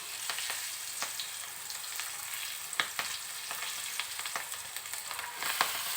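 Pindi kura, tender leafy greens with a pinch of turmeric, frying in a pan, a soft steady sizzle dotted with light stirring taps and scrapes.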